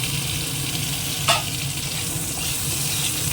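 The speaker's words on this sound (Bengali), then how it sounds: "পটলটা আবার একটু ভেজে নেবো একটু শুধু হালকা নুন দিয়ে দেবো" Pointed gourd (potol) fries in a pan with salt and turmeric, giving a steady, close sizzle throughout, with one brief clatter partway through.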